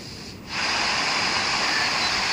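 Water from the KRS dam on the Kaveri river rushes in a dense, steady roar that swells up after a brief quieter moment and then stays loud and unbroken.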